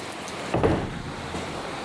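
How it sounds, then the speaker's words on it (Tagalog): Rain falls on an afternoon as a soft, constant wash of drops, with a slightly louder swell near the middle and no talk. "Ulan."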